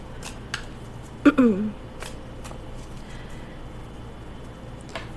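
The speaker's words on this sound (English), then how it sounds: "think about that question as you shuffle" A deck of tarot cards shuffled by hand gives one brief, close riffle of papery flicks partway through, with a few faint taps before and after against a quiet room background.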